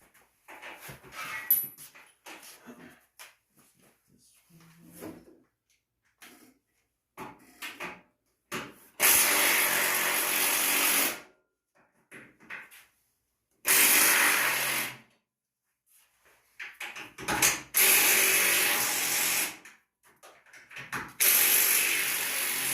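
Bursts of a ratchet wrench with a blue 15 mm socket clicking rapidly as bolts on a 2015 Ford F-150 sway bar are loosened, several separate runs of sharp metallic ratcheting between quiet pauses.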